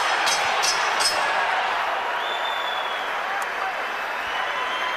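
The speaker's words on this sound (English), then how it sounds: "Crowd are enjoying it" A ringside crowd at a boxing ring title fight roars and applauds in a broad sustained wash, with a few sharp claps and whistles near the start, filling the whole stretch.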